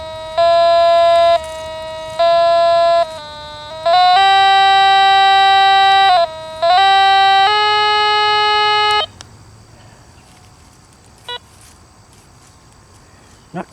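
A metal detector sounds a loud, high electronic tone in several sustained pulses that shift pitch between readings, then cuts out, leaving faint rustling and a couple of small clicks.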